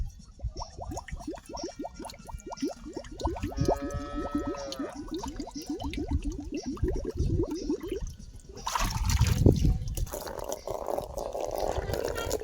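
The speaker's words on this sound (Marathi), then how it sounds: "मी पाणी ओततो बाटलीने." Water poured from a bottle on a farm, a steady trickling stream with a rising fill pattern in the middle, ending in a louder splash, with voices in the background.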